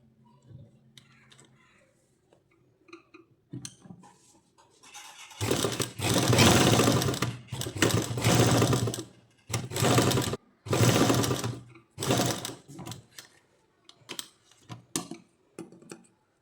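A sewing machine stitches fabric in loud, rapid bursts of mechanical whirring and clatter, separated by short pauses and quieter ticking handling sounds, close by with no talk.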